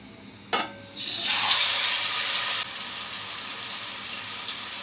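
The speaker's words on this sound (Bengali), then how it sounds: "পরিমাণ মতো তেল গরম করে নিয়েছি দিয়ে দিচ্ছি আমি শিম ভর্তা" Mashed green beans hit hot oil in a pan with a sharp clatter, then burst into a loud, bright sizzle that settles to a steady, quieter frying hiss, with no talking.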